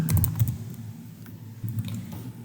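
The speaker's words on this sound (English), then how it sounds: "type your username." Clicking keystrokes on a computer keyboard as a username is entered on a bank's online login page, quick soft taps in two short clusters, close and fairly quiet.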